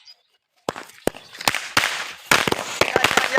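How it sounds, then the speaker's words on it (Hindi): A chatai bomb string of firecrackers goes off outdoors during Diwali, a rapid, irregular burst of loud sharp cracks that starts after a brief quiet moment and keeps crackling to the end. "हम चटाई बम छोड़ के आते हैं।"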